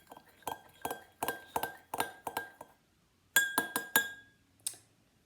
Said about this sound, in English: Give it quite a good stir, otherwise it will settle at the bottom.